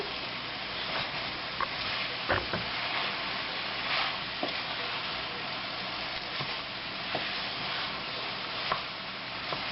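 Bok choy being stir fried in a hot pan, a steady close sizzle with scattered stirring scrapes and clicks continuing throughout, no voices.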